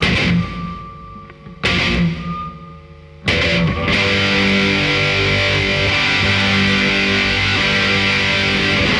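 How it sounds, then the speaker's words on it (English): Heavily distorted electric guitar chorus from Radiohead's "Creep", played through a Marshall Shredmaster into a Fender 85 amplifier, with rapidly picked sliding octaves; loud, dense wall of sound after two brief bursts and gaps. "the classic distorted, sliding octave parts picked at an ungodly rate"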